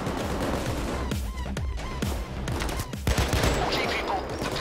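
Gunfire in the video game Payday 2 crackles in irregular, rapid bursts of sharp shots over a busy background of action noise.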